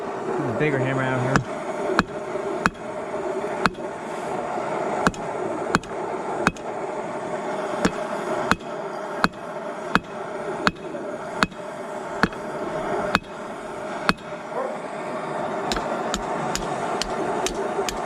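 Bigger hammer striking blacksmithing tools under repair, about twenty sharp metallic blows at a steady, slightly uneven pace, close and loud, with someone talking between strikes.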